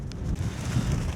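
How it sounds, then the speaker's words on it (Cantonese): Strong, cold wind buffets the microphone outdoors at Dunham Masse, giving a low, rumbling, fluttering roar that rises and falls briefly without speech. "好大風，我哋就係翻入去啦，好凍啊！"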